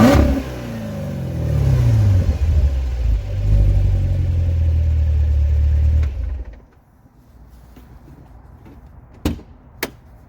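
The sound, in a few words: sports car engine revving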